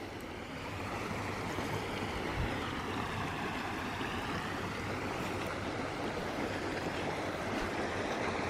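Kings Creek in Lassen Volcanic National Park flows in a continuous rushing babble, steady and moderately near, with no voices.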